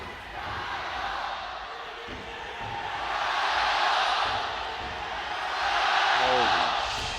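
An esports arena crowd of EDG fans at an LPL League of Legends qualifier match makes a dense, sustained roar that swells and ebbs in waves, with voices audible within it.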